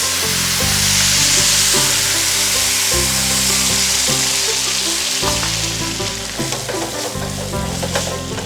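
Rice grains coated in fat sizzle loudly in a hot pan as stock goes in, a steady close frying hiss with stirring and scraping beneath.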